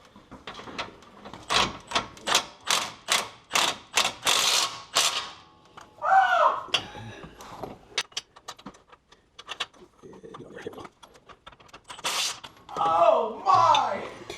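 Control arm bolt on a 2011 GMC Acadia being tightened with a ratchet: a run of rhythmic ratcheting clicks, close and clear, then pauses with scattered metallic handling noises and brief voices.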